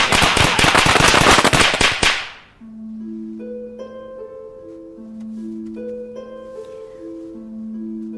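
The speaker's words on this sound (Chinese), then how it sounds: "爆竹一声辞旧岁，" Firecrackers burst in a loud, rapid crackling barrage on Lunar New Year's Day, then stop abruptly, giving way to gentle melodic instrumental music.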